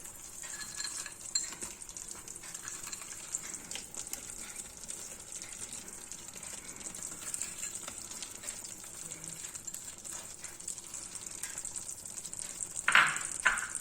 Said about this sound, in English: Now at this stage we can add the chopped cashew nuts.